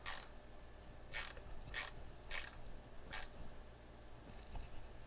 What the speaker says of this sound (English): And what you want to do is tighten these down.